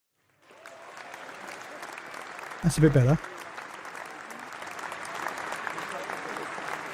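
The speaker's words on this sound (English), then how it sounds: "that round of applause is a little bit underwhelming" A crowd claps on a game livestream, a thin, steady patter of applause that builds gradually, interrupted by a short burst of talk partway through.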